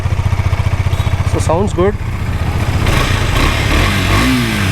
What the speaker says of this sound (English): Let's hear the noise of exhaust.